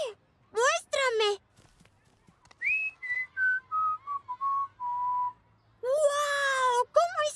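A cartoon character whistles a descending run of clear, steady notes, framed by bursts of high-pitched animated chatter before and after.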